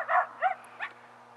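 A few short dog barks or yips, three quick bursts spaced apart, fairly close, with quiet room hum between them.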